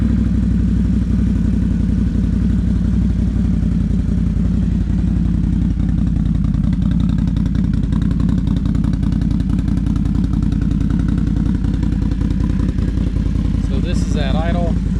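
A Can-Am Renegade XMR 1000 ATV fitted with an SLG exhaust idles close by, a loud, steady, throbbing rumble with rapid pulsing that runs unbroken, and a person talks briefly over it near the end.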